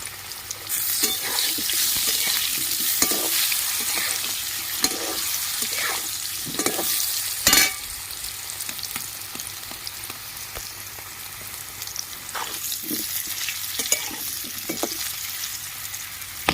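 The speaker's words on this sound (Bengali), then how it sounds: "আলুটা ভাজা হয়ে গেছে" Potatoes seasoned with turmeric and salt sizzle steadily in hot oil in a pan, broken up by repeated scraping stirs from a spatula. The close, continuous hiss runs throughout, and no one speaks.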